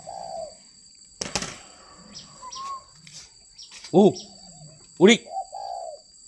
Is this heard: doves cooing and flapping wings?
yes